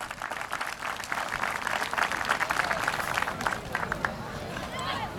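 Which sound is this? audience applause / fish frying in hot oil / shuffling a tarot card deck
audience applause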